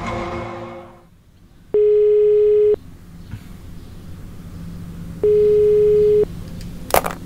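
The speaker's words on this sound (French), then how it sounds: "on va appeler le mec avec le téléphone" Telephone ringback tone while phoning a mechanic about a Seat Inca van: two long, steady electronic beeps, separated by a few seconds of quiet room noise, loud and close.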